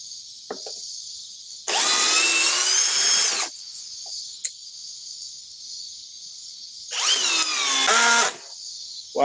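Power drill backing screws out of a floor-model item, two loud whirring bursts of a couple of seconds each, separated by quiet, with a high electronic whine running throughout and brief clicks.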